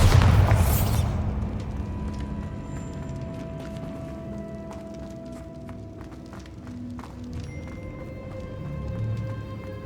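A Bombarda spell explodes in Hogwarts Legacy, a loud burst at the start fading into a long rumbling, crackling tail with scattered debris hits and game ambience.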